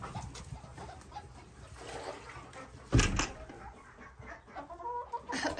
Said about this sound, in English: This hen is still brooding.